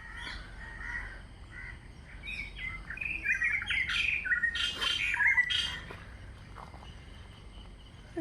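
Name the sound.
various birds calling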